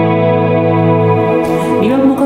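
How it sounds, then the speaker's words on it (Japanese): Electric guitar played through a Strymon BigSky reverb pedal with an expression pedal, sustained chords ringing into a wide, shimmering wash of reverb, followed by a few new plucked notes blooming into the spacious tail. "リバーブのかかる量自体は一緒なんですけれども、リバーブがかかった後の音の広がり方ですね、ここが変わってくる"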